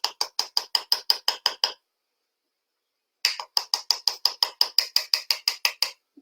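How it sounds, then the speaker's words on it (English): Loose mineral foundation is tapped out of a jar into its lid in two bursts of quick, sharp, evenly spaced clicks, close and crisp, with a short silence between them. "is get my foundation, and I'm going to tap some out in the lid"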